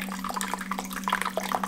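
Water draining from the mash in a Speidel Braumeister brewing system during an amber ale brew, a continuous splashing trickle with a steady low hum running underneath.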